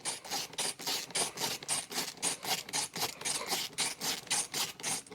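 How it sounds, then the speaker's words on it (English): A Craftsman 6x SpeedDrive ratcheting screwdriver backs out a screw, giving a fast, steady series of rhythmic ratcheting rasps and clicks, close and moderately loud, with no voices. "Let's go ahead and take a screw back out and see how well it works."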